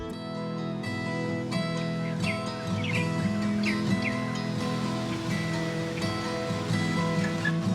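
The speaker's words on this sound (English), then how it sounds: "hearing the birds chirping" Birds chirp in a bamboo forest in rural China, with short scattered calls rising above a steady, dense background drone of forest ambience.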